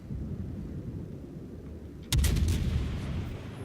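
A single heavy naval gun shot fires in World of Warships from the cruiser Wooster, a sudden loud booming blast that rolls on with a sustained low rumble, heard alone.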